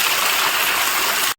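Water at Bhimeshwara waterfall rushes in a steady, loud, unbroken wash of noise, heard alone with no voices, cutting off abruptly at the end.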